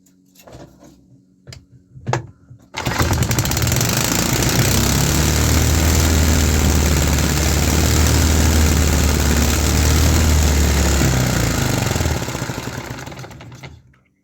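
A 3D-printed, fuel-injected engine with a PLA piston runs at up to 6000 RPM, a loud, steady, buzzing drone held for about eleven seconds after a few brief sputters, then winding down at the end.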